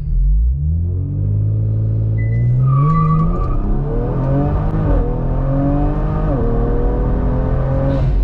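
A modified Kia Stinger accelerates hard in first gear in manual mode, its engine roaring loudly as it climbs in pitch, dipping and rising again through the pull, with a brief tire squeal early on and heard from inside the car.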